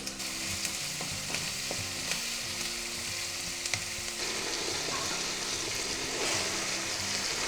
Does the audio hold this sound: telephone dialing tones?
no